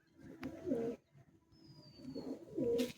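Madrasi pigeons in a loft in Bauria, Howrah, giving two close rounds of low, throaty cooing, separated by a short pause, with faint bird chirps in the background.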